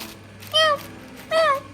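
A kitten gives two short, high, clear meows about a second apart, close by over a low steady hum.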